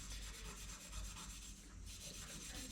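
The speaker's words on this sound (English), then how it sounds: "I'm just going to go over them all now with this grey Scotch-Brite stuff." A grey Scotch-Brite pad, roughly like quad-zero steel wool, rubbed over a surface in a continuous, close, dry scrubbing hiss with a steady back-and-forth pulse, faint and unbroken.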